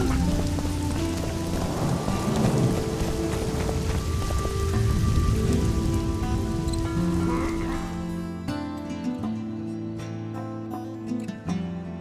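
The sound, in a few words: rain falling, from the video game The Witcher 2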